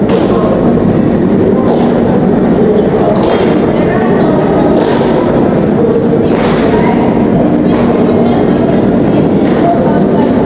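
Metro train in a deep underground station of the Russian metro, a steady loud rumble of rolling wagons with repeated thuds and hiss bursts across the whole stretch, voices faintly mixed in.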